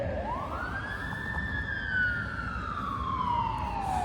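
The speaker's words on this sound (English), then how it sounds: "Ambulance coming by here." An ambulance siren passes nearby, one long rising then slowly falling wail over steady traffic rumble, loud and alone without talk.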